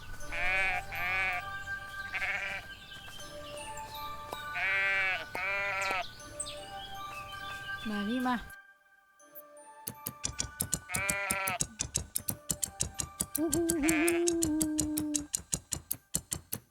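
Sheep bleat repeatedly in a shearing minigame of the farming video game Everdream Valley, loud wavering cries in several bursts, with game music and ticking effects; a voice speaks briefly.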